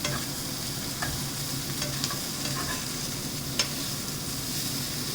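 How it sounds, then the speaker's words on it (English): Potatoes frying in a pan for kanda batata poha, a steady soft sizzle with occasional light scrapes and clicks of a spoon stirring through them. "I just put in the potatoes, give that also a good stir."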